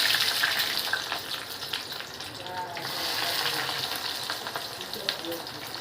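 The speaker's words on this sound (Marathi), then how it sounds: "मी हे छोटे छोटे बारीक पातळ असे चिरून घेतलेले कांदे ते फ्राय करायला टाकत आहे" Thinly sliced onions frying in hot oil for Hyderabadi biryani, a steady close sizzle with crackling pops running throughout, no talking.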